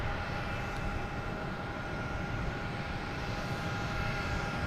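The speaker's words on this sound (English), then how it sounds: "next taking off will be a JetBlue, an A220, heading to Detroit" A JetBlue Airbus A220 bound for Detroit takes off at Boston Logan Airport, its engines a steady, fairly distant broadband roar that holds even and unbroken throughout, with no talking over it.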